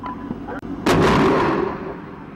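A heavy missile strike on a fortified insurgent mortar position, heard from a Marine's combat helmet camera as a single sudden loud blast with a rumbling decay, following muffled background noise.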